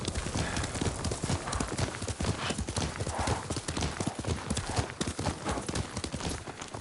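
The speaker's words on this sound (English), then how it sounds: "Yuriko's horse. She can't be far." Horse hooves clip-clop at a steady walking rhythm on ground in the Ghost of Tsushima video game, close and distinct, repeating throughout with a faint ambient bed beneath.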